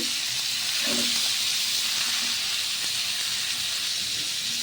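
Malabar spinach fruit and shrimp frying in a pan, a steady loud sizzling hiss throughout with soft knocks of stirring underneath.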